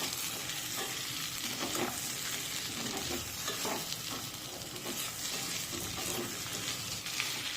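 Chopped ridge gourd being stirred in hot oil tempering in a pan, a continuous close sizzle of frying with scraping strokes of a spoon, no voices.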